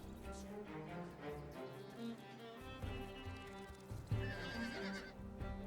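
Stark cavalry horses in a Game of Thrones mod of the Total War battle game, with repeated whinnies and neighs over a bed of clip-clopping hooves, no talking.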